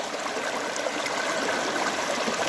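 River water rushes steadily through a gold panning sluice on a small New Hampshire river, a continuous close, even wash with no voices.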